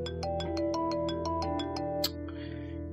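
A mobile phone ringtone plays loud and close as a repeating melodic pattern of rapid pulses for about two seconds, then cuts off, leaving a soft rustle.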